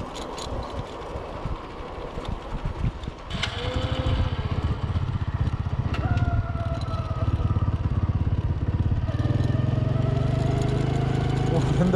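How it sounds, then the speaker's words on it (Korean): Motorcycle engine on a mountain road trip through Vietnam, heard cranking and struggling before catching and settling into a steady loud running putter, with brief talk early on. "시동이 걸렸어."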